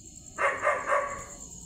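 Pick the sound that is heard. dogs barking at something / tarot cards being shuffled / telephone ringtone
dogs barking at something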